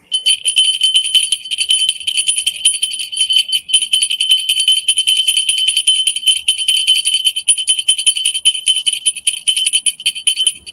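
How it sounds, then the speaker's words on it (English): A bell is rung over a lit candle during a magic ritual, giving a bright, sustained metallic shimmer of overlapping rings that keep sounding throughout without pause, close and clear, with no voices. "I put this bell over my candle magic."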